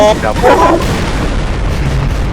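An explosion in the video game Garry's Mod gives a loud, heavy boom that rolls into a sustained rumbling roar, with a voice briefly audible at the start.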